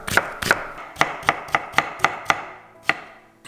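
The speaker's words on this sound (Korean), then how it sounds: "고명으로 올리고 싶은 만큼 채를 쳐주고요" Knife julienning a round summer squash on a cutting board: about nine crisp, sharp chops, two quick ones then a steady rhythm of six with a pause before a final cut, close and clear with no talk.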